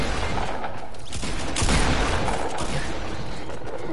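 Rapid, repeated gunshots crackle through a Fortnite firefight, a dense, steady burst of automatic fire with one louder volley in the middle and no talk over it.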